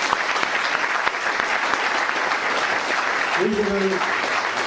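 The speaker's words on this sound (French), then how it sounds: "Donc un applaudissement pour eux, s'il vous plaît." An audience at a French-language speaking event applauds, a loud, steady, dense clapping sustained throughout, with a brief spoken word from a voice heard over it near the end.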